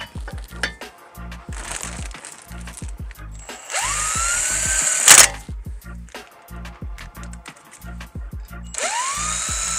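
Power tool, likely an impact wrench, tightening wheel lug nuts on a 2021+ Acura TLX fitted with 27mm H&R TRAK+ wheel spacers: repeated rapid bursts of hammering, several short runs in a row at close range, with background noise between.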